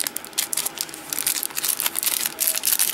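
Crinkly plastic packaging holding beads is handled and opened up close, giving a continuous loud rustling and crackling with sharp crinkle bursts throughout.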